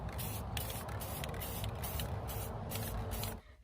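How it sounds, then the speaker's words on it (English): A steady hiss of a gold spray paint can coating hoops outdoors in short, closely spaced bursts, fairly faint, stopping abruptly at the end. "I'll give them 1 coat of my gold spray paint."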